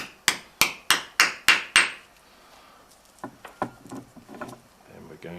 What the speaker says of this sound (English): And use the right end of the hammer